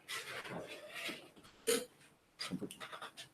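A small dog whimpers and breathes in quick, soft pants close by, with faint short whines coming in brief bursts amid quiet room sound.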